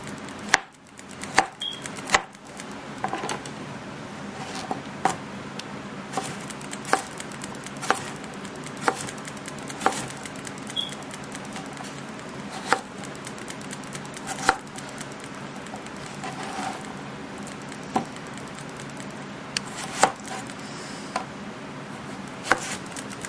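A knife chops food on a cutting board in a steady series of sharp, close taps, spaced unevenly over a quiet background with no talking.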